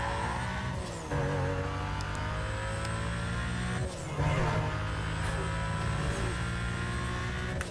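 Car engine in Need for Speed: Most Wanted (2005) revving and gaining speed, loud and continuous with rising gear-shift sweeps, dropping briefly before climbing again, with faint game music beneath.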